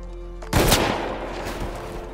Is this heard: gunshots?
yes